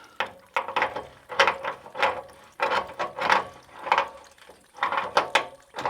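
A wrench tightens a radiator valve fitting in about a dozen rhythmic metallic ratcheting strokes with short gaps between them, close and fairly loud, with no talking.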